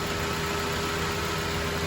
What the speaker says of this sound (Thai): ฟังเสียงเครื่องนะเอาพี่ๆฟังเสียงเครื่อง